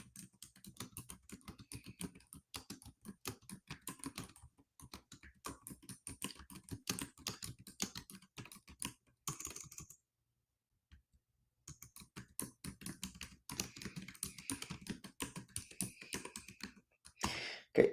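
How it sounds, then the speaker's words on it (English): Rapid, steady clatter of typing on a computer keyboard, close and fairly quiet, running in dense bursts with a short silent pause midway before the keystrokes resume; no voices. "let's see if I can type this without making mistakes"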